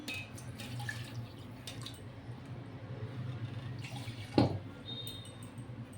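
Lassi, a yogurt drink, strained in a kitchen: quiet trickling and scattered drips of liquid falling through a strainer, with one brief louder splash near the end.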